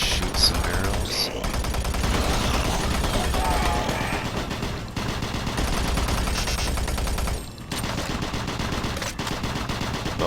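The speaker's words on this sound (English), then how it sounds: "Let's shoot some barrels." Gunfire aimed at barrels in Doom 3 rattles almost without a break, with dense repeated shots and short gaps, loud and close throughout.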